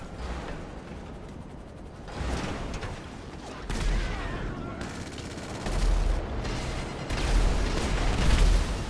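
Gunfire in Grand Theft Auto V: dense bursts of automatic weapon fire and booming shots, loud and close, with rising surges of rapid shooting throughout.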